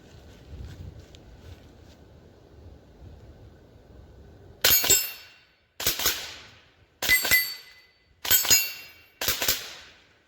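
A suppressed Rossi RS22 rifle firing CCI subsonic .22 rounds, five sharp, close cracks spaced about a second apart, each with a short metallic ring, after a stretch of quiet background.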